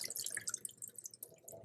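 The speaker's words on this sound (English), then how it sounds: "So let's rinse these out." Water splashing over soaked chickpeas being rinsed, a brief close trickle of dripping and splashing liquid, fairly quiet.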